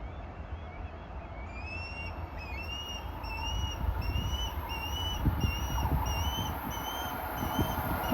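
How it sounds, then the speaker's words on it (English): Birds nesting on a railway catenary pole chirp in repeated, rising calls over a steady outdoor rumble at a rail line, carrying on continuously and fairly prominently. "Those birds are really making a racket up there"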